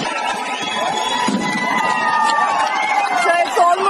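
A large crowd bustles on Rock Beach in Pondicherry on New Year's Eve, a continuous mix of chatter, shouting and children's cries close by.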